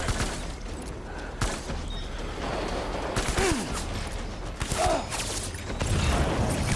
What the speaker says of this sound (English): we're shooting and moving here